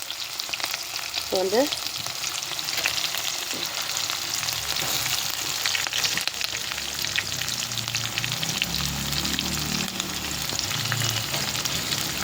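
Sliced onion and coriander sauté in hot oil with fennel seeds, a steady close frying crackle with stirring scrapes, and a voice speaks briefly near the start.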